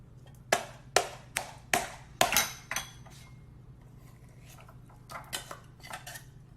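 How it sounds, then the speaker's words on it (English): A spoon clinks and taps repeatedly against a bowl while tuna is mixed with sriracha mayo and sesame oil for spicy sushi rolls. There is a burst of sharp, bright knocks early, then quieter scattered clinks. "In a bowl, mix in your sriracha mayo, sesame oil,"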